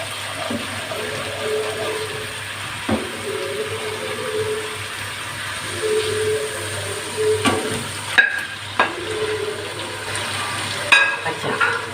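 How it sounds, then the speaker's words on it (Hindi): Mutton pieces frying in a pan with garlic and ginger give a steady, moderately loud sizzle, broken now and then by sharp clinks of a utensil against the pan. "अब हमने गोश्त को इसमें डाल दिया है और अब हम इसे 5 से 10 मिनट तक इतना भूनेंगे कि इसका कलर चेंज हो जाए"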